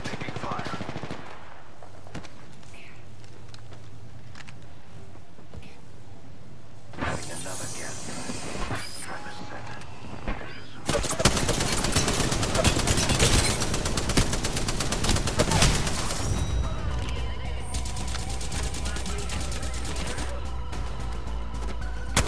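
Gunfire in an Apex Legends match: quiet stretches, then sharp bursts around seven seconds, followed by long loud sustained automatic fire with dense rapid shots and clatter until the end.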